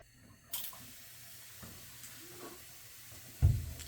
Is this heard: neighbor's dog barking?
no